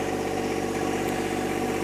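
A John Deere 1025R compact tractor engine runs steadily, a close continuous mechanical drone with no breaks and no talking.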